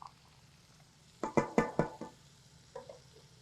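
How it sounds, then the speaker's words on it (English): Pasta being stirred quickly in a pot in a community kitchen: a few close knocks and scrapes of the spoon against the pot in a short run, then a fainter clink, over a quiet background. "Give the pasta just a quick little stir here so we don't have that going on the bottom."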